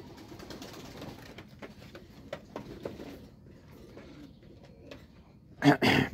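Koka flute pigeons in a cleaned loft, soft low cooing and faint fluttering at moderate distance, ending with a sudden louder burst of wing flapping or movement close by.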